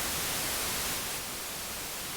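Flat, unfiltered white noise generated in Pure Data hisses steadily and loudly across the whole clip, with the level dropping slightly partway through and no voices present.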